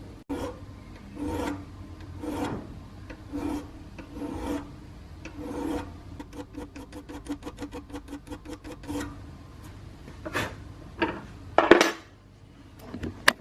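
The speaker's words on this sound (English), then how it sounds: "I'm going to practice shaving the logo and see how it comes out." A file rasps rhythmically across a logo on a part clamped in a vise, slower strokes giving way to quicker rapid scraping, close and fairly quiet, ending with a few sharper metallic scrapes.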